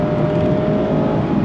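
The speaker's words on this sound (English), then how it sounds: "Great sound to that 4-cylinder, naturally aspirated engine" A 2025 Mazda MX-5 Miata's naturally aspirated four-cylinder engine drones steadily and loudly from close by while driving, a sustained even hum with no talk.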